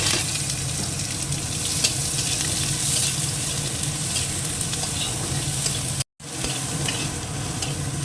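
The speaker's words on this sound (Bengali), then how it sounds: "পেঁয়াজটা ভাজা হয়ে গেছে" Onions frying and sizzling in a hot pan with dried chillies, a steady dense crackle that runs for the whole stretch with a brief dropout near the end, and no talking.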